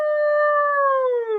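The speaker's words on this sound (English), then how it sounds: "howled the dog." Dog howling, a single long, clear, loud howl that holds steady and slowly drops in pitch, heard alone with no other sound.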